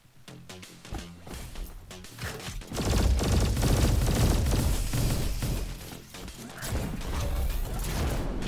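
A pulse rifle fires in RoboQuest, a dense rattling fusillade that swells after a few seconds and holds loud and sustained with mechanical clatter, no voices.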